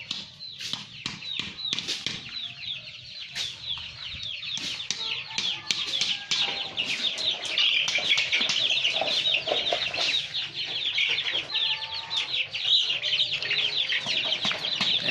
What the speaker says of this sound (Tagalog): Ito naman po yung mga alaga niyang manok. Ayan, napakadami.